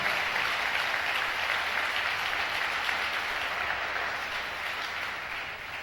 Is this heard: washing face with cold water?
no